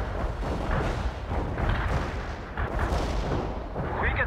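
Sustained gunfire and artillery rumble through a World in Conflict Soviet Assault battle, a dense continuous roar of shots and booms at steady loudness with no break.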